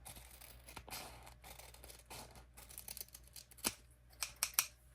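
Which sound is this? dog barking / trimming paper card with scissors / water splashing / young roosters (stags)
trimming paper card with scissors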